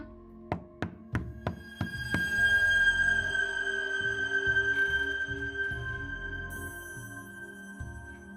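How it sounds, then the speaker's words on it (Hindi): A quick run of about six loud, sharp knocks lands in rapid succession near the start, then gives way to a sustained, steady ringing tone with low rumbling underneath. "ये इतनी जोर से नॉक करने की आवाज कहाँ से आ रही है?"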